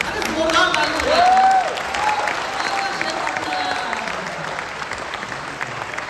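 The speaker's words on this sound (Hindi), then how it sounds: "अरे जोरदार ताली है" Audience applause and cheering at a kavi sammelan poetry recital in a hall at IIT Delhi, a steady crowd roar with whistle-like calls at first that settles into sustained clapping.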